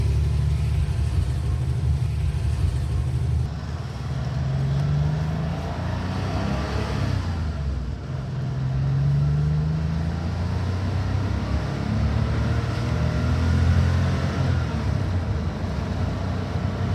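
A Porsche 911 cabriolet cruising at sustained speed, with a steady low engine drone and road rumble carrying on evenly throughout, swelling gently at moments.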